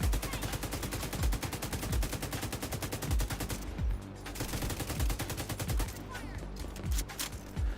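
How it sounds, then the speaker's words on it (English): Sustained rapid light machine gun fire in The Division 2, a dense continuous stream of shots with heavy low thumps recurring throughout, loud and close, with a few brief pauses in the burst. "I like this as like the best LMG"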